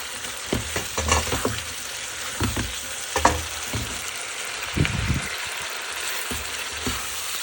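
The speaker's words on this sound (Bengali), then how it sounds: "মাংসটা একটু কি ভালো করে কষা নেবেন," Meat fries in a pan of spiced masala while being stirred, giving a constant bright sizzle broken by rhythmic scraping strokes of a spatula against the pan, close and fairly loud.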